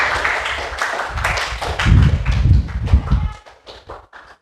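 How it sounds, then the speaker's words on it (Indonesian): A classroom of students bursts into applause, a dense burst of clapping that thins into a few scattered individual claps before fading out. "tepuk tangan dulu untuk semuanya"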